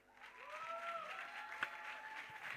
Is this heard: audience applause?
yes